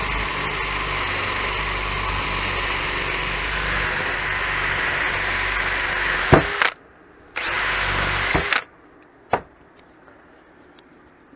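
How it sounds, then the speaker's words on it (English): A power drill with a 1/2 inch paddle bit bores through metal on a Christmas tree stand, whining loudly and steadily, then stopping and restarting in short bursts before going quiet. "1/2 inch paddle bit, get it to go down in there"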